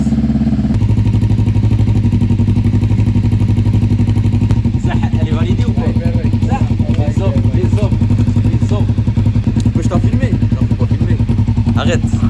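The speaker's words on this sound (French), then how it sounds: "dans 15 minutes, le temps que le moteur il chauffe" Motorcycle engine idling steadily while warming up before an oil change, a loud, constant low throbbing that runs throughout, with faint clatter and people talking over it partway through.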